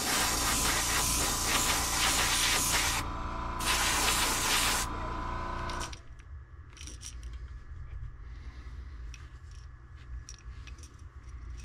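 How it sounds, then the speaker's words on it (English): Spray paint hissing onto a golden shiner fishing lure, a loud continuous broadband spray in two long bursts with a short gap, then stopping abruptly, leaving quieter faint clicks and handling noises. "Let me just spray the back of this quickly"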